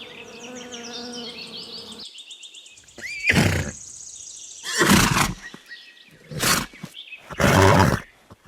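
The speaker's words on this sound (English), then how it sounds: "Horse." Horse neighing in a farm animal sound sequence, heard as three or four loud, harsh bursts of about a second each, separated by short pauses, with a buzzing insect sound before them.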